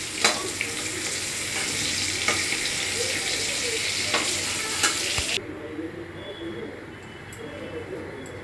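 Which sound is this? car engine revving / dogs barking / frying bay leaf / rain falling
frying bay leaf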